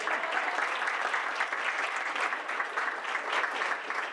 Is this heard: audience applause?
yes